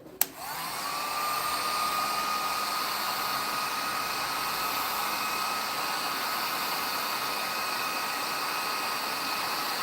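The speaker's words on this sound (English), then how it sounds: "I need my heat gun, my trusty dusty heat gun." A heat gun for shaping Worbla plastic switches on with a click and then blows hot air in a steady, loud, even whoosh with a high whine, alone.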